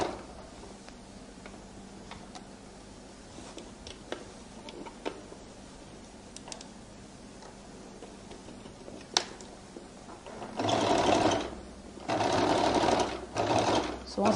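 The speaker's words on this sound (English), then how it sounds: "I roll it open and I now begin to stitch." A sewing machine stitching a flared skirt starts up after faint ticks and handling noises, then runs in two loud steady bursts of rapid mechanical whirring near the end.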